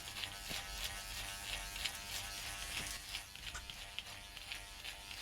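Electric hair clippers fitted with a number 6 (18 mm) guard buzz steadily through long hair during a home buzzcut, a close continuous whine with slight shifts as the blades move.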